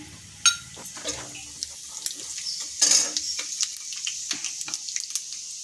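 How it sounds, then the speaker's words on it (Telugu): Cumin seeds frying in a pan while making mint chutney, a soft steady sizzle with light stirring scrapes and a few sharper clinks, fairly close. "తర్వాత ఇందులో జీలకర్ర వేసి"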